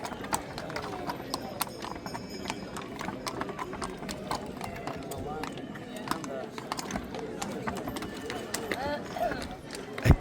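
Hooves of a farm cart animal clip-clop in a steady, brisk rhythm on a hard surface, with faint mechanical rattling from the cart and low background noise.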